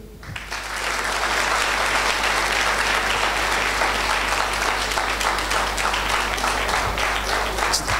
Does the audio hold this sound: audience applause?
yes